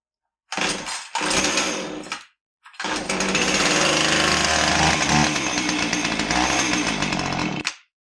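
Husqvarna 450 chainsaw that runs with its chain turning backwards: two short pulls catch briefly, then the engine fires and runs loud and steady at close range for about five seconds before cutting out.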